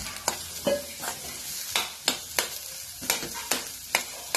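Onion frying in a little oil in a pan, a constant sizzle punctuated by sharp spatula scrapes and taps at a steady stirring rhythm, close and fairly loud.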